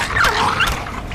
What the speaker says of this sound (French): c'est un chien enragé, ça.